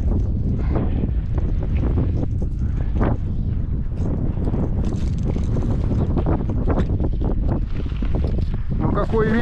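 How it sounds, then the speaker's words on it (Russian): Strong wind gusting over a lake buffets the microphone with loud, steady low rumble and roaring bursts throughout, while people talk nearby. "Ну какой ветер сегодня,"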